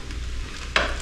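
Fried rice with egg sizzles in a hot pan, a steady low frying hiss with a sharper, louder burst of sizzle near the end of a single brief moment.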